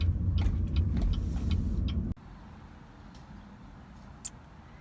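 A car on the road, heard from inside as a steady, loud low engine and road rumble for about two seconds, then a softer, quieter drone after an abrupt cut.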